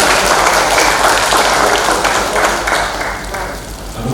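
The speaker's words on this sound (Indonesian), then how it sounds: "Kita tepuk tangan dulu." An audience at a digital literacy event in Kupang, NTT, bursts into loud applause that stays thick for a few seconds, then gradually thins and softens toward the end.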